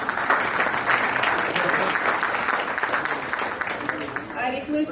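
An audience at an economic committee seminar breaks into sustained applause, a dense, even roar of clapping hands that holds steady for several seconds before thinning slightly at the end, with voices murmuring underneath.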